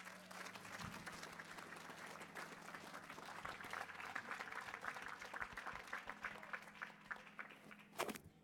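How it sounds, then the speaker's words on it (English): Church congregation clapping hands in praise, a loud, continuous, dense round of applause that holds steady throughout, with faint voices underneath. "Now give the Lord a hand clap of praise"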